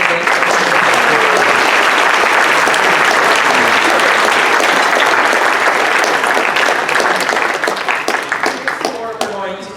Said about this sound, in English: One more round of applause for our president.